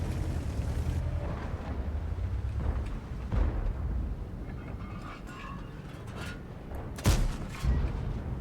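Tank gun firing in a video game, a K-91-122 Soviet medium tank: a sharp loud blast near the end over a constant rumbling engine and battle din, with duller booms earlier.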